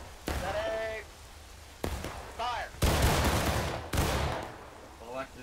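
Musket volleys from a line of soldiers in the War of Rights video game, with several loud crackling bursts of massed fire separated by pauses, mixed with shouted commands from players.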